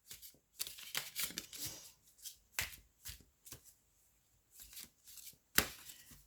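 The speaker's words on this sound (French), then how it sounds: "on va prendre l'oracle d'Élise et on va continuer ce tirage" Oracle cards are shuffled for a tarot-style reading, with close, crisp riffling bursts of card stock separated by brief pauses, loud and isolated with no talk.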